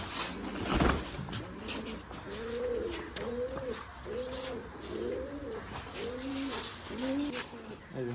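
Rajshahi Giribaz pigeons at a pigeon farm cooing in a regular repeated rhythm, about seven throaty coos at moderate distance over background noise and a brief rustle.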